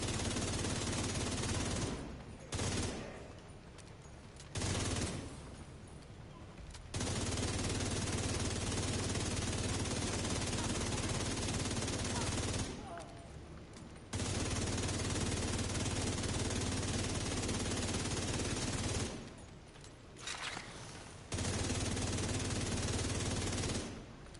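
Long, loud bursts of machine gun fire in the video game The Division 2 roar almost continuously, broken by a few short pauses between sustained volleys.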